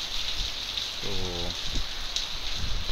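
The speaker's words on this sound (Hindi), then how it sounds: "बारिश जो है काफ़ी तेज़ हुई पड़ी है" Heavy rain pours down in a village, a dense, steady roar up close, with a man's brief word partway through.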